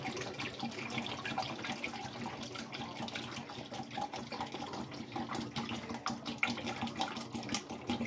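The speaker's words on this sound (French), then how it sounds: "L'eau pour mélanger l'eau avec le miel, voilà, c'est-à-dire les 3 litres d'eau pour 900 g de miel." Water poured to mix with honey for making mead, a steady close splashing and trickling stream with no pauses and no talk.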